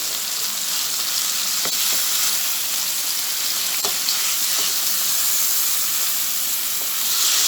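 Chicken and vegetable stir fry sizzles and hisses steadily in a pan, with a few soft scraping stirs breaking through the constant frying noise.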